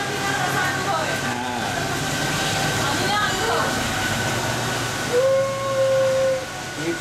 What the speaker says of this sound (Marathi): हा ट्रेन मुंबई पुणे